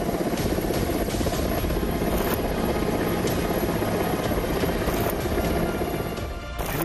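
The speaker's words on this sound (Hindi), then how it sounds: "हेलीकॉप्टर से सांसें अटकाने वाला रेस्क्यू ऑपरेशन" An Indian Air Force Mi helicopter flying over flooded, landslide-hit Kangra during a rescue: a loud, continuous rotor roar with steady chopping, heard close and alone, no talk.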